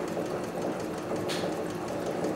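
A CB6900 leather sewing machine runs steadily as it stitches through four layers of chrome tan upholstery leather, making a dense continuous mechanical whir with no breaks and no talk.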